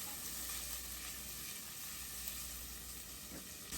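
Diced shallots sautéing in a pot for a creamy lasagna soup, giving a quiet continuous sizzle with faint stirring noises, no talking.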